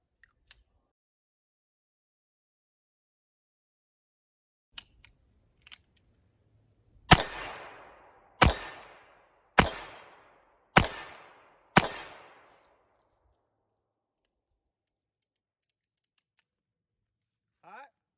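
A Ruger Blackhawk .45 Colt revolver fires five loud, evenly spaced shots outdoors, each followed by a short decaying echo, after a few faint clicks of handling and with quiet gaps before and after.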